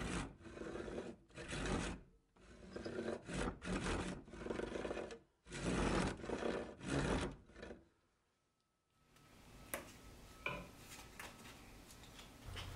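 Hand saw cutting a slot about 1.5 inches deep into a wooden knife handle blank to seat a steel tang, with repeated rasping strokes in quick bursts, close and steady, before falling quiet near the end.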